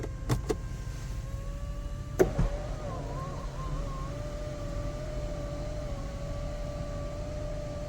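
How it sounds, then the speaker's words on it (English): The electric sunroof and shade of a 2024 BMW X1 open together after two quick button clicks, followed by a steady whirring motor hum heard up close inside the cabin. "You can double click the sunroof button to open up the shade and the sunroof at the same time"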